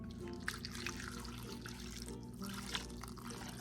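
Hot water pours from a tap or kettle into a bowl of imitation crab, a steady close-up splashing stream that runs continuously with no talking.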